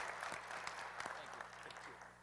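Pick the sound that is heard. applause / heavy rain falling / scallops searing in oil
applause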